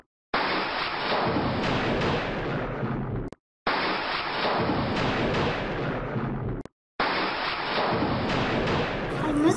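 March thunderstorm starting, heard as three identical bursts of loud rumbling thunder with heavy rain hiss, each lasting about three seconds and separated by short silent gaps.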